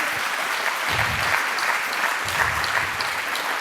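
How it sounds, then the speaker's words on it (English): Conference audience applauding a speaker after a talk on imposing climate law onto governments: a loud, continuous round of clapping that carries on steadily from start to finish. "A big applause for Rick van der Rijn for this very important topic"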